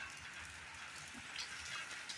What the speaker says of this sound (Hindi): और जी देखो बारिश हो रही है